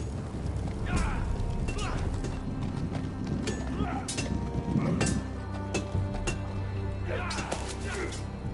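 A horse's hooves clip-clop in a steady walking rhythm on hard ground, close and clear, with faint clinks of tack under a quiet, busy background.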